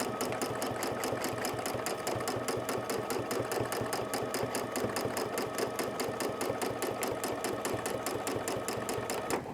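A sewing machine runs steadily while machine quilting a quilt, its needle hammering in a fast, even rhythm that stays close and loud throughout, with no talking.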